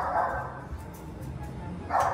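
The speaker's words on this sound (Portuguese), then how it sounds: "O cachorro tá latindo." A dog barks twice nearby, one sharp bark at the start and another near the end, with a quiet indoor stretch between the two.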